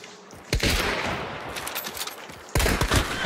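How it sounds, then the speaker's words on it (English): Bursts of gunfire in the game Hunt: Showdown: one loud volley, then a rattle of shots, then another sharp burst near the end, with no talking. "There he is, shooting."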